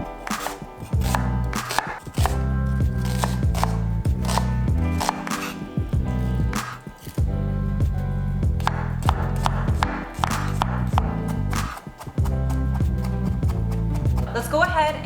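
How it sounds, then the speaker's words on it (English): Onions and garlic sliced on a cutting board for a creamy Tuscan salmon pasta: a fast, steady run of sharp knife taps on the board, close and crisp throughout, with brief pauses. "let's get cutting our onions and garlic"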